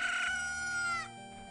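A cucco chicken from Zelda Ocarina of Time gives one short, shrill squawk, strained and nasal, that drops off abruptly.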